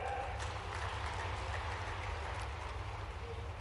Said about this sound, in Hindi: लेकिन यशस्वी प्रधानमंत्री नरेंद्र मोदी जी के लिए जोरदार ताली बजाए।